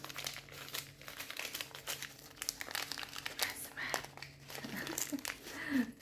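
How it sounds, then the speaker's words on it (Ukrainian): Close crinkling and rustling of a plastic packet of cosmetic samples being handled and pulled open, irregular bursts of crackle with soft murmuring in the background. "Давайте пакетик цей відкриємо обережно."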